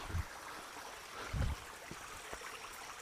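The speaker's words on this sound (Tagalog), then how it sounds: "Sapa pala ito. Sapa." Forest stream flowing near a volcano, a soft steady rush of water with a few low thumps and gurgles, faint and close.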